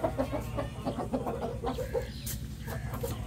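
Chickens on a farm where pigeons are also kept give a rapid series of short clucks close by, over a constant low background hum, without talk.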